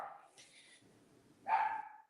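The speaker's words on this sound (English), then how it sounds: "Sorry, it's our dog." A pet dog barks indoors during a live online talk, giving a couple of short, muffled yips at moderate distance, the second louder, with no talking.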